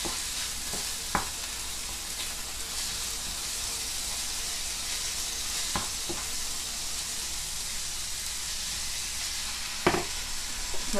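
Meat sizzles in a hot pan in an Iraqi kitchen, a steady loud hiss of frying with a few brief scrapes and clinks of stirring, no talking.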